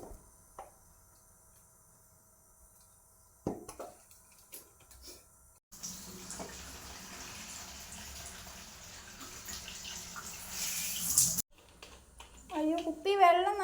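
Tap water runs into a bottle for several seconds in a steady, close gush that stops abruptly, with quiet speech and a voice before and after.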